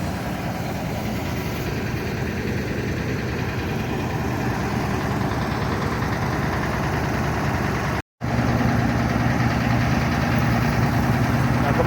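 A heavy ALS 270 bus engine idles with a steady low rumble and vibration, cutting out for an instant before continuing.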